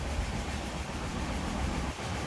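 The Tamralipta Express runs at speed through a station without stopping, a steady, loud rush of wheel and carriage rumble heard from inside the train, with no voices.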